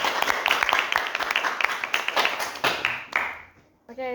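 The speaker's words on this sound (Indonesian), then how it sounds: "Ya, kasih tepuk tangan dulu dong teman-teman." Students clap for a classmate during a school podcast, a short burst of fairly close, uneven claps that fades out, followed by a brief voice at the very end.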